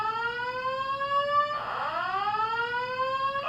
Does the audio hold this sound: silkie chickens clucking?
no